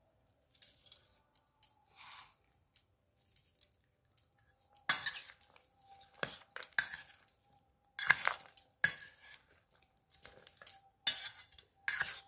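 Potato is mixed with fried sev in a bowl. A spoon or utensil scrapes and clinks against the bowl in scattered short bursts, quiet and close, with pauses between strokes and no talking.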